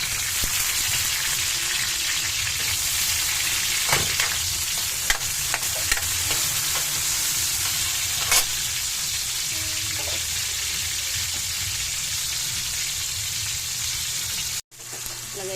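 Ginataang tulingan, tuna in coconut milk with pechay and kangkong, being stirred in a pan: a steady close sizzle and bubbling simmer with occasional scrapes and clinks of the spoon, and no talking.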